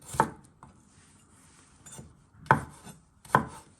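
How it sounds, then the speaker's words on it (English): A knife chops garlic on a board in sharp, separate thuds, one early and two more a second apart near the end, close and clear with no talking. "So you're just slicing it"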